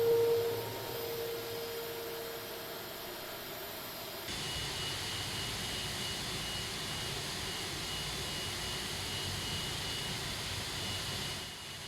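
Simulated jet engines of an Aerosoft A330 taxiing in Prepar3D, a steady whining drone with a faint tonal hum, continuous throughout and fairly quiet.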